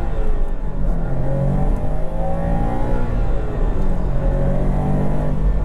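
A Subaru WRX STI EJ20 Final Edition engine pulls steadily under acceleration, a continuous loud drone with rising harmonic tones, heard from inside the cabin.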